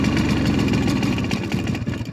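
A Simson moped engine sputters and chokes at idle, needing a spark plug change; a steady, close, loud running note with uneven, stumbling pulses and no voices.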